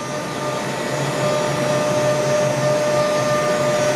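A dust collector on a CNC machine roars as it pulls router-bit shavings up through its hose, a loud continuous broadband whoosh with a faint steady whine, running alone without talk.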